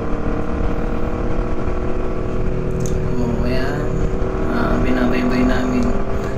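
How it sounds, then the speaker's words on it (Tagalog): A motorcycle cruises along an expressway, with a steady, loud engine drone and wind rush running throughout. Someone talks over the noise. "first time kong magmotor na nagdadrive dito sa may expressway"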